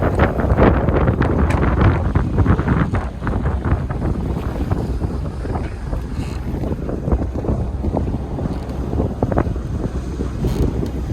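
A sailboat under motor punches into a headwind and waves at sea, with steady engine drone, hull slaps and splashing over continuous loud wind buffeting the microphone, with no talk.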